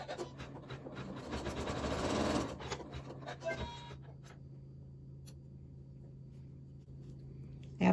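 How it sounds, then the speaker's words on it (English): A sewing machine stitches fabric for a mug rug in a fast, buzzing run of a couple of seconds before it stops. A low steady hum and faint handling noises follow. "So I will put this back onto the machine and stitch it."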